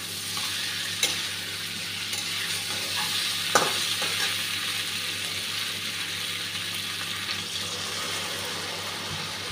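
Potatoes and dried Chandana fish fry together in a pan, a constant soft sizzle broken by a few sharp clinks of a utensil against the pan, with no voices.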